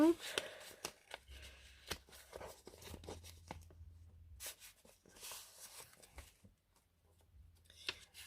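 A paper envelope sealed with a butterfly sticker and washi tape is peeled and torn open in quick crinkly, rustling bursts while someone talks softly over the handling.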